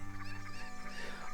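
A chicken in Zelda Ocarina of Time gives one short, quiet clucking call that lasts about a second.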